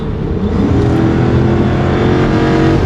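A car driving at high speed on the road, with a loud, steady engine roar and dense road rumble that holds for about three seconds, close and without any talk over it.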